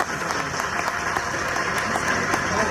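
A gathered audience claps steadily for an honoured guest at a get-together, a dense, continuous patter of many hands at moderate loudness, no speech on top.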